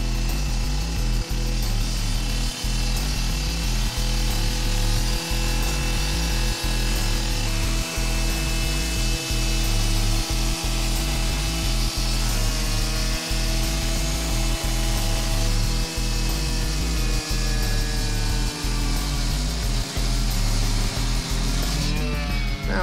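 A power saw with a water hose attached cuts a backyard concrete slab, a loud, continuous grinding whine that holds for over twenty seconds. Faint regular thumps sit beneath it and the pitch shifts slightly as the blade works through.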